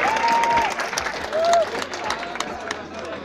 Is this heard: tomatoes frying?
no